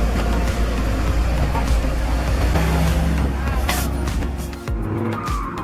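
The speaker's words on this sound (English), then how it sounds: "its wheels were spinning in the mud, unable to move forward" A heavy log-laden truck grinds on a rough jungle dirt road, its wheels spinning in deep mud. The engine roars steadily and close over squealing, skidding tires that ease off briefly near the end.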